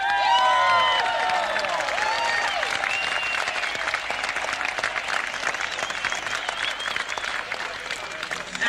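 A big outdoor concert crowd at the Eriksberg Shipyard Docks in Gothenburg claps and cheers steadily for a backing singer, with whoops and whistles. The sound is loud at first and then settles into sustained, even applause.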